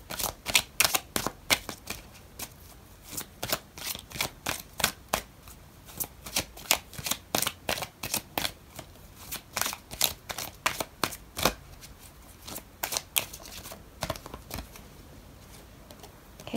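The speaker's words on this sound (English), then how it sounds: "I'm going to pull out another card for you" Tarot cards being shuffled in a steady run of crisp, rapid riffles and flicks, close and fairly loud, continuing throughout with no talk.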